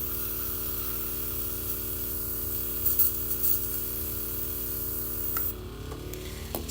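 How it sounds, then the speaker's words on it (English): A short test burst of spray paint for Warhammer miniatures, a steady hiss over a constant hum that runs for several seconds and then cuts off, with no talking. "Let's do our test spray real quick."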